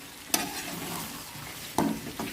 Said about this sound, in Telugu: కొద్దిగా కరివేపాకు, అల్లం వెల్లుల్లి ఫ్రై అయింది కదండి